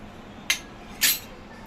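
A metal spoon clinks twice against a bowl while salt goes into gram flour (besan) for aloo paratha dough. The taps are faint and sharp, about half a second apart, in a quiet room.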